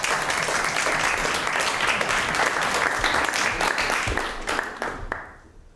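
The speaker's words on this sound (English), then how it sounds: "they deserve a round of applause" A studio audience on a classroom-style reality show breaks into a full, sustained round of applause, dense clapping holding steady before thinning and fading out at the end.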